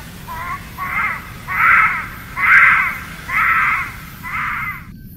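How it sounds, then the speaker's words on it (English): Bush babies (galagos) in a zoo's nocturnal animal exhibit give a series of six shrill, wailing screams, rising and falling in a steady rhythm like a crying infant, fairly close and loud over a low background hum. "if you ever hear a baby screaming in the middle of an African forest, it's not actually a baby or a demon"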